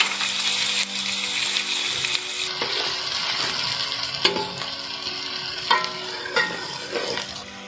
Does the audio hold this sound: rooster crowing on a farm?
no